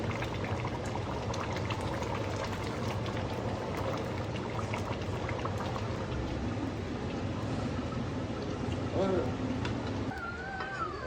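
Pork feet and beans boil in a pot, giving a steady bubbling, simmering wash throughout with faint background voices near the end.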